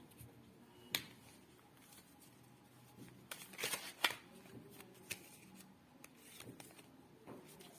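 A deck of tarot cards being shuffled by hand, with soft rustling and a few sharper riffling snaps, quiet and close with no talking.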